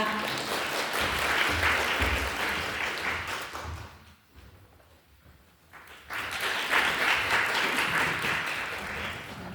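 A hall audience claps loudly to welcome a welfare director giving congratulatory remarks at an anniversary performance-sharing event, applause swelling for about four seconds, dipping briefly, then rising again.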